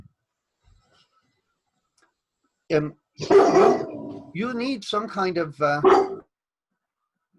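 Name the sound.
dog barking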